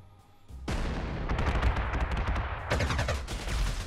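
An aircraft attacks a tank in Panzer Corps 2, a 1940 siege-of-Lille scenario: after a quiet start, a sustained loud barrage of rapid gunfire and booming impacts runs almost continuously, surging again near the end.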